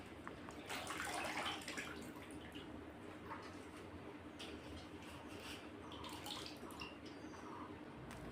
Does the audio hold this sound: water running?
yes